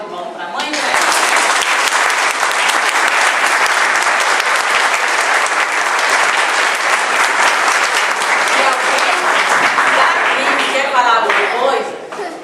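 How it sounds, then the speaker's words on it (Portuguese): Guests at a 90th birthday party for an elderly mother break into loud, sustained applause, a dense crowd of clapping hands with some cheering and chuckles mixed in, steady for about eleven seconds before tapering off. "Uma salva de palmas para a mãe, né?"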